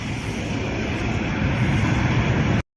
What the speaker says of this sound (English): This yellow plane right there coming into the picture.